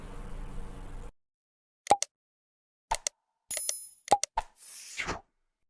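A short notification bell chime plays alone after a burst of noise, with a few brief dings and plops in a sparse, clean sequence.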